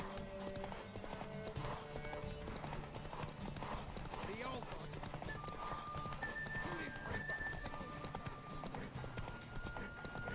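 Horse hooves clip-clop at a gallop through a race in The Witcher 3, a steady close rhythm with occasional whinnies, laid over game music and spoken voices.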